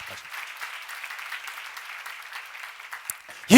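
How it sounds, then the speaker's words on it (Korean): A church congregation claps steadily during a Korean sermon, a dense, even patter of many hands lasting several seconds, cut off at the end by a sudden loud burst. "믿는 사람 한번 박수 쳐봐."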